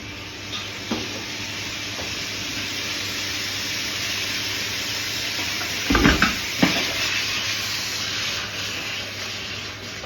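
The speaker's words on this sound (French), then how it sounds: "Je mets un tout petit peu d'huile d'olive dans ma poêle. Je la fais chauffer." Olive oil heating in a frying pan gives a steady, close hiss and sizzle that runs throughout, with a brief burst of louder crackling and stirring near the middle.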